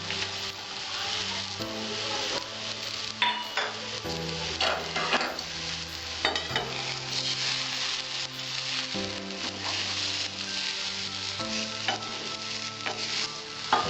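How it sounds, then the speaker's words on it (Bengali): Peanuts and fried coconut go into a hot frying pan while making a Bengali-style banana flower chop filling, giving steady sizzling with stirring and scraping throughout, close and fairly loud, with musical background and no talk. "বাদামগুলো আর নারকেল ভাজাটা আমি দিয়ে দিচ্ছি।"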